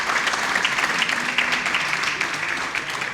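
An audience in a lecture auditorium applauds, a dense, even wash of many hands clapping that stays loud and sustained from start to finish.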